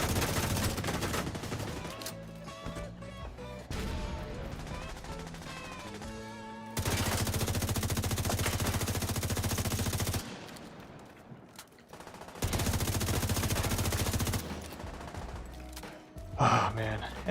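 Gunfire in The Division 2, long sustained bursts of automatic fire, loud and close, broken by pauses with quieter game sounds and a sharp gasp near the end.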